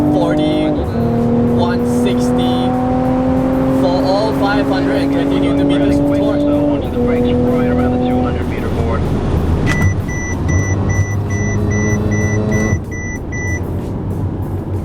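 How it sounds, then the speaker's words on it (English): A Mercedes-AMG sedan accelerates hard at full throttle on the Sepang circuit at night. The engine note climbs loudly through the gears from inside the cabin, and a driver speaks over the steady engine roar. "wait until you can see the start-finish straight until you really start getting onto the throttle. Full throttle."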